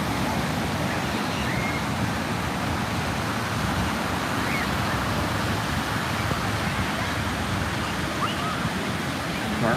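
Ocean waves roll in at a beach during a family surf contest, making a continuous, loud, broad wash of surf with faint voices buried under it.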